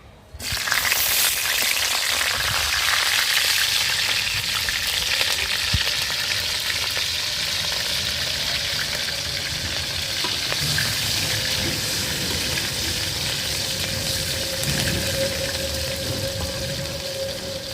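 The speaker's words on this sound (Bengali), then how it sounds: "তেল গরম হয়ে গেছে, এখন ফোড়ন দিয়ে দেব। কালো জিরা, কাঁচামরিচ," Nigella seeds and green chilies sizzle in hot oil as a tempering for a spinach and shrimp curry, a loud, steady frying hiss that starts abruptly and holds throughout, with no one talking.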